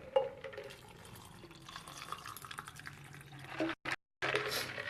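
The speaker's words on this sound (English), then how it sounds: "we're just going to take this and pour this over our strawberry." A mixed drink for a Norma Jean cocktail is poured over strawberries, giving a faint, light trickle and dripping with a brief break before the liquid splashes again.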